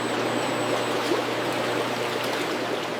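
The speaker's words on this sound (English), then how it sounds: "Baby carrots are chilled in ice water to maintain crispness and freshness." Water runs steadily in a factory ice water bath for chilling baby carrots, a constant rushing and trickling wash at even loudness with no voices.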